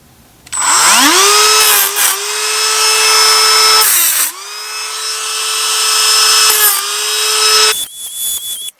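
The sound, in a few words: Dremel-like tool scoring back of RC wheel nut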